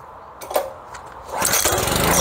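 A Honda small engine with a carburettor problem, choke on full, starts up after a brief quiet moment and settles into a loud, steady close-up running roar.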